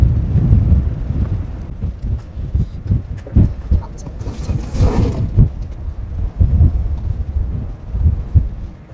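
Strong gusts batter the microphone outdoors during a stingless bee honey harvest, a rough buffeting roar with thumping surges throughout, loud and close.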